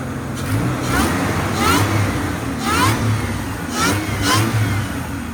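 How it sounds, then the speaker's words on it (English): A supercharged engine in a cheap used Nissan Xterra idles and revs in several swells, running steady and fairly close, with some exhaust leaking, and a voice occasionally speaking over it. "You can hear that supercharger purring."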